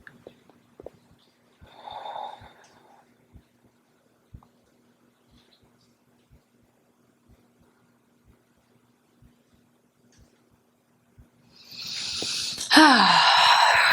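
Slow, deep yoga breathing during a floor pose: a soft nasal breath early on, quiet ticks in a near-silent room, then a louder, rushing exhale at the end.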